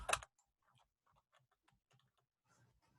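Soft, scattered keyboard taps at close range after a brief loud knock at the start, as text is typed into an Excel spreadsheet cell, with quiet pauses between keystrokes.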